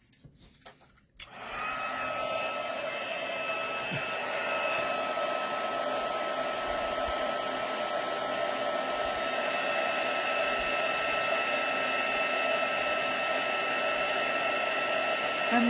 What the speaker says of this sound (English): Get my heat gun again.